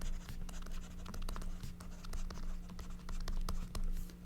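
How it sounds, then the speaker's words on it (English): Marker or chalk scratches on a board during a chemistry lesson come as short, quick strokes, close and fairly faint over a steady low hum. "So I can write this here again."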